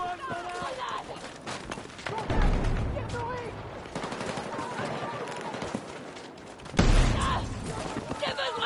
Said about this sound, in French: Je lui mets toutes les balles dans le corps.